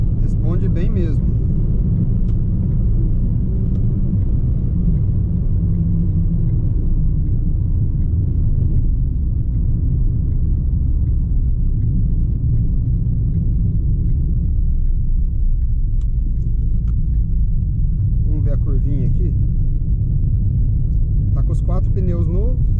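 Steady low engine drone of a 2018 Ford Ka 1.5 SEL pulling in fourth gear at around 2,000 rpm, continuous road rumble throughout with someone talking over it.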